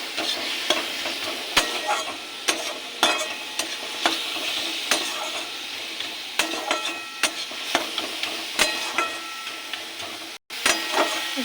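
Crushed lentil dumplings frying with sugar in a pan for a red amaranth sour dish, a constant sizzle punctuated by regular sharp scrapes of a spatula stirring, close up with no voices.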